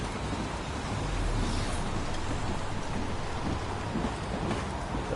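Steady heavy rain pours without a break in the game Heavy Rain, a dense even hiss of drops with a faint low rumble underneath.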